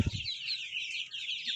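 Sonali chickens, a Fayoumi and native mixed breed, cluck close by in a steady chatter, with a brief low thump at the start.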